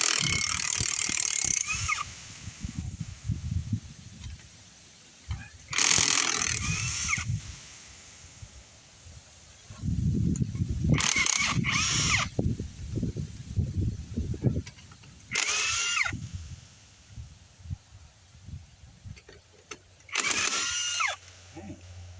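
A Bauer 1/2-inch drive cordless impact wrench loosens lug nuts on a Cat grader tire, firing loud, close bursts of rapid hammering that stop and start several times, with quieter gaps between them.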